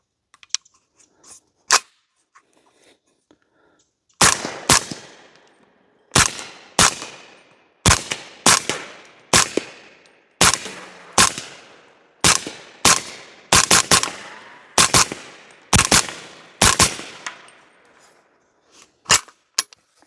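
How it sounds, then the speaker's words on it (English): A Q HoneyBadger rifle fitted with a YHM R9 suppressor fires through a magazine, about twenty sharp, close cracks at an uneven pace with short pauses between groups, loud and alone. "I'm gonna shoot off of my target so you don't hear any other sounds besides the suppression of the firearm."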